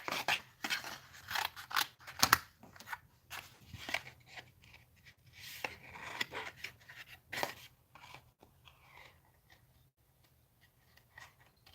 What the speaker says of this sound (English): I'm gonna cut out these flowers here too.